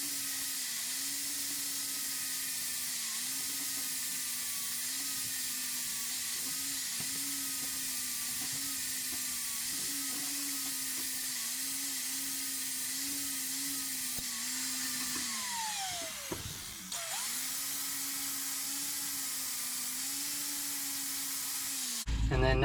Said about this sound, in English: let's get a flapper wheel on the grinder and grind that off